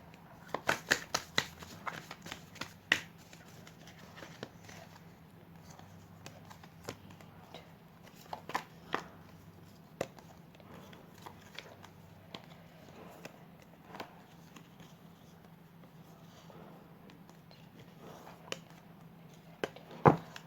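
Tarot cards are handled and shuffled at close range, making soft, scattered flicks and taps, busier at the start and near the end, over a quiet steady hum.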